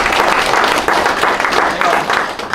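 Audience at an education lecture clapping in thanks, a loud continuous round of applause with rhythmic swells and some voices mixed in.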